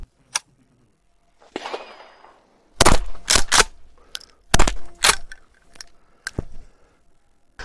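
A 12 gauge shotgun fires two loud, sharp blasts about two seconds apart outdoors, each followed by a short echoing tail, with quieter handling clicks before and after.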